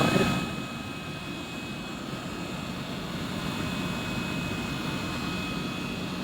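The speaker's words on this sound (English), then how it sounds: "Here's an example of bench testing a centrifugal fan." Bench test of an electric motor driving a centrifugal fan, heard as a steady, smooth whirring rush with a faint high whine, running continuously after a slightly louder start.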